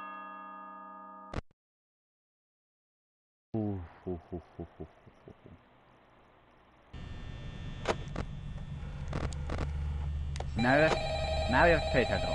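In the Five Nights at Freddy's video game, a telephone rings in a short burst, then a series of bell-like dings follows, and later a dense mechanical ambience builds under sharp clicks and chimes, with speech mixed in.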